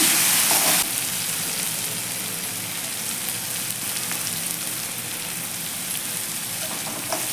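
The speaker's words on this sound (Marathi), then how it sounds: "ही मुगडाळ आपण एक मिनिटभर छान अशी यामध्ये परतून घ्यायची आहे तेलावरती" Moong dal sautéing in oil for a radish stir-fry, a steady soft sizzle and crackle running through the whole stretch, with a brief louder burst at the very start.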